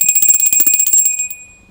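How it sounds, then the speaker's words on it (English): A small bell rung during a live tarot reading gives a quick run of bright, ringing strikes that tail off into a short fading decay, heard alone and fairly loud. "So then, let's do your bell."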